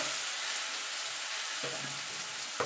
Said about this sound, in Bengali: একটুখানি নাড়াচাড়া করে নেব।